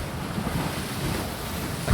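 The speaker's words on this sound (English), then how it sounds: "that's the water coming up to the inside of the knuckle and popping?" Water rushes and sloshes up inside a hollow knuckle-shaped space and pops, a dense, loud, close roar of broadband noise with low thumping, steady throughout and swelling at the very end.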